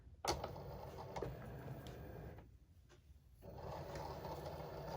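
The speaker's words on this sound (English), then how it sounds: "now it should cut out the back of my tag" Cricut cutting machine slicing through heavy cardstock for a gift tag, a steady low mechanical whir with small ticking clicks and a brief quieter pause mid-way before the motor hum resumes.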